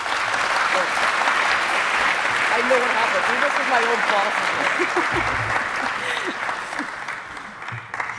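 At a React Finland tech conference, an audience applauds steadily for the speaker Ivis, with a person talking over the clapping as it continues.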